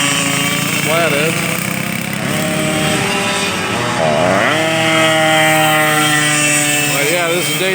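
Several sidewinder go-kart engines, ranging from Yamaha and McCulloch two-strokes to a four-cycle flathead, drone loudly and steadily together, with revving pitch swells rising and falling throughout during morning practice at a historic kart race.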